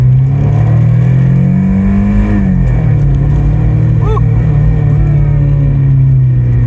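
A Maserati Shamal twin-turbo car accelerates from inside the cabin, its engine note rising to a loud, steady drone, then dipping briefly with a gear change before pulling on.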